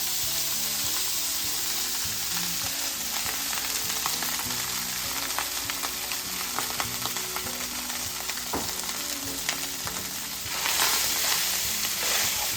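Food frying in bacon grease in a hot skillet gives a dense, steady sizzle and crackle with scattered pops, close and continuous with no talk.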